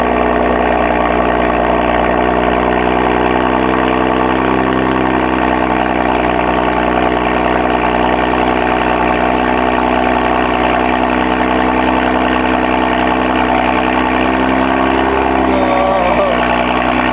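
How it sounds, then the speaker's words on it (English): A BMW F80 M3 idles steadily after a cold start, a loud, even engine drone holding constant for many seconds before a slight shift in pitch near the end. "As you can hear, that's a really good cold start."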